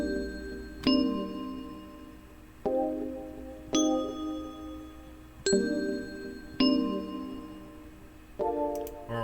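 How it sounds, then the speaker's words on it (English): Bright synthesized bell notes from FL Studio ring out about six times at uneven intervals, each with a sharp metallic strike and a ringing tail that decays before the next hit, clear and close with no voices. "you probably want to add like a bell next"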